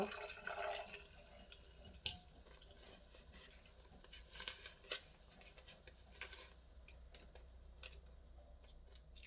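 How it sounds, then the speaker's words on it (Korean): Water runs and drips while a pour-over coffee dripper is rinsed, a soft uneven trickle and patter with small clinks close by, fairly quiet throughout. "자, 한번 물로 닦아 줄게요."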